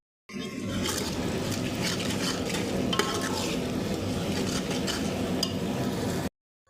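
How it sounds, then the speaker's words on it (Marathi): A wet ground paste of onion, tomato, garlic and coconut roasts in a pan with a dense, steady sizzle and occasional scraping stirs, close up and continuous, with no voices. "हे मसाला सगळा आपला चांगला भाजला आहे चरचरी जात आहे"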